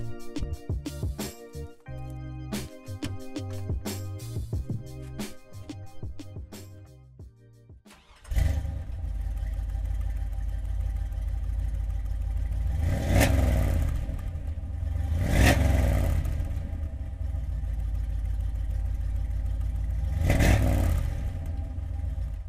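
A 1974 Chevrolet Corvette Stingray L82 V8 cranks over and fires into a loud, steady idle, recorded close from behind the car, with three sharp throttle blips rising and falling; some clattering and handling sounds come before the start.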